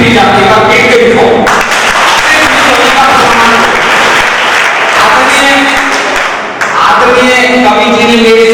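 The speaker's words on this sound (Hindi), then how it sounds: "ताली पीटी जाती है। पीट के दिखाओ" Live audience at a Hindi poetry recital in Behror clapping loudly and steadily, a dense wall of applause with voices mixed in and a short dip before it swells again.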